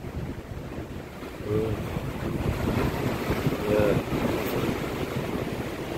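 Ocean waves wash against the shore at Namwon port in Seogwipo, Jeju, in a steady broadband rush mixed with wind noise on the microphone, with a brief spoken word in between.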